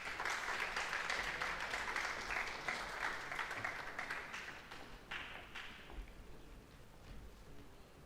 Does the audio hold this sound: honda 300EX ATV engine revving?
no